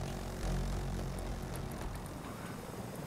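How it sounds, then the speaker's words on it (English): A stealth helicopter in the video game Battlefield 2042, a fairly quiet, steady rotor and engine drone with a low rumble and faint higher whine, continuous with no talking. "Oh, stealth chopper."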